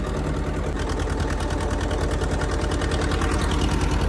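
Tractor engine running steadily in a very wet field while a rotavator works, a loud, close, continuous chugging drone with a fast, even mechanical pulse throughout.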